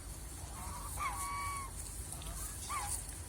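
A few short honking quacks from crested ducks on a farm, moderately distant, over a low steady background rumble.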